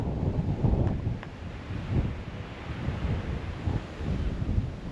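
Steady wind buffeting the microphone in low rumbling gusts on a hilltop at Dumbarton, Scotland, continuous and fairly loud throughout, with no voices.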